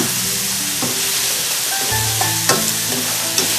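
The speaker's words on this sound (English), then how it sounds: "Now, brown it up on high heat. You get some sliced onion, throw that into." Garlic and sliced onion fry over high heat with a loud, dense, unbroken hiss, punctuated by a few sharp taps and clinks of stirring close by.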